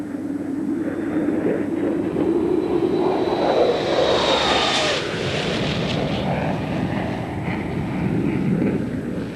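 A jet airliner flying overhead, a steady loud roar of engines that swells and slowly shifts in pitch as it passes, continuous throughout with no voices.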